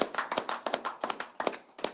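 A small group of people claps at a gathering, scattered and uneven hand claps in short bursts, fairly quiet and close, with no voices over it.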